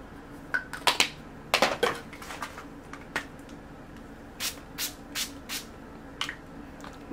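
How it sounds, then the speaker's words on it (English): e.l.f. Illuminating Mist and Set setting spray misted at close range: a handful of short, hissing spritzes in small bursts, some in quick pairs, over quiet room tone with no talking. "That setting spray is from e.l.f. Illuminating Mist and Set."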